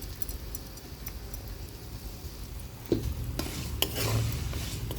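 Fenugreek and mustard seeds frying in oil with a pinch of asafoetida for a mango fenugreek pickle, a steady low sizzle with scraping stirs and a couple of sharp utensil knocks near the end.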